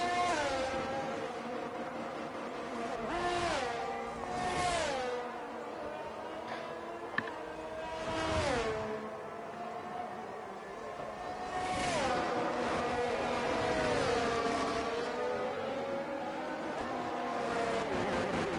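Alfa Romeo race cars lapping in a racing video game at the France round, high engines revving and shifting in repeated rising sweeps, steady and fairly loud throughout.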